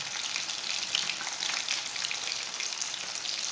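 Fish fries in a pan for a Lahori fish fry, a steady dense sizzle of hot oil crackling evenly throughout, close and alone with no talk.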